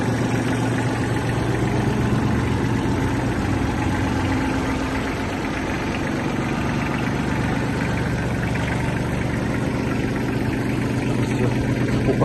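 Small Mitsubishi MTZ 21 Japanese mini tractor engine running at a steady idle, a continuous close mechanical drone with a faint knocking rhythm and no talk over it.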